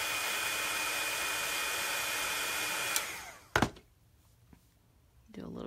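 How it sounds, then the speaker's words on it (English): A heat tool roars steadily up close while drying watercolor paper, then cuts off with a sharp thunk, followed by quiet handling sounds before the tool starts again. "I'm going to heat this just to dry it."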